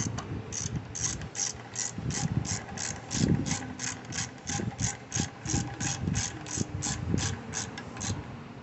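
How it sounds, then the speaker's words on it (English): A ratchet clicks in fast, evenly spaced bursts while tightening carburetor bolts on an air line third lung unit during a rebuild, close and steady, mixed with duller mechanical knocks and handling noise. "and then tighten these two down"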